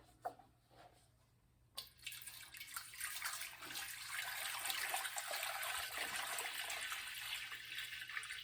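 A gallon of spring water is poured into a cooking pot, a steady splashing rush that starts after a brief pause and continues, fairly quiet and close.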